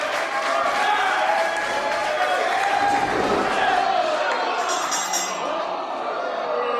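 A wrestling crowd at an indoor show roars steadily behind the wrestler Prophet, a sustained, dense mass of cheering and shouting voices that swells slightly midway.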